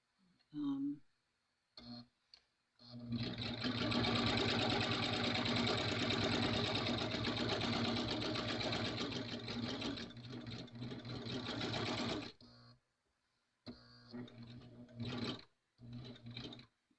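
A new serger sewing machine runs in one steady, fast stitching burst of about nine seconds, with short bursts and pauses before and after and a person speaking in the gaps.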